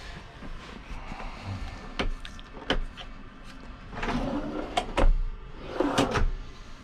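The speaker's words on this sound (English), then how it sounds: "I really like these cam latches on the drawers here." Cam-latch drawers in the cherry cabinetry of a 2024 AWD Ford Transit custom camper van are opened and closed, giving several sharp clicks and thumps with soft sliding rumbles between them.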